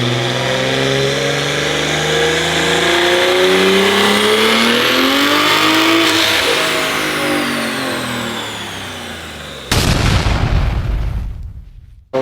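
A tuned, boosted BMW M4 of around 1200 horsepower roars on a dyno, its engine note climbing steadily through a long, loud pull before an abrupt, harsh burst near the end as the run cuts off.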